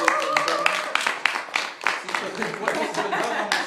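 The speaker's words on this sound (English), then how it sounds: "Can we give him a round of applause" An audience gives a round of applause at a motivational event, with scattered clapping mixed with chatter, chuckles and a voice speaking over it.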